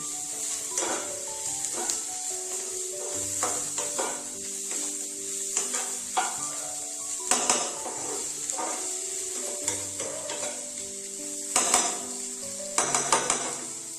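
Steady sizzling of carrots frying in a pan, with occasional scraping and clinks of a utensil stirring against metal; no voices.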